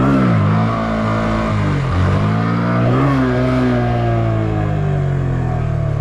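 A motorcycle engine revs hard and steady while the rider holds a wheelie in a parking lot, its loud harmonic drone close and continuous, with pitch dipping and climbing as the throttle shifts.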